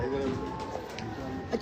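Rooftop pigeons coo softly at a Karachi pigeon keeper's loft, with low cooing running beneath a man's close speech.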